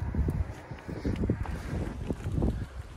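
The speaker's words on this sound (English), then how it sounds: "Really, really windy today, which is a bit annoying. So there's going to be a bit of wind noise" Strong wind buffets a microphone outdoors near a parking area at a historic battlefield, producing a low, rumbling, gusty roar that swells and fades throughout.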